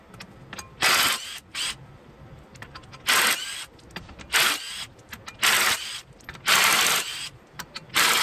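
Six 19 mm flywheel bolts coming off a Mazda B2000 engine during a teardown, with loud close bursts of a power impact tool whining in short repeated runs, separated by brief quiet gaps.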